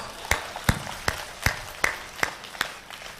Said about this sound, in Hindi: तालियां तो अब उठेंगी